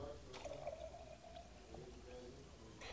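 Distilled water being poured into a container during a lab procedure, a faint trickling pour over a noisy background.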